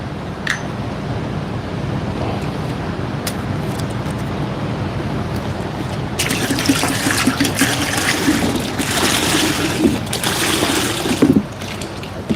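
Water pours into the cooling system of a 2012 Dodge Ram pickup, a steady close splashing trickle that grows louder and rougher about halfway through.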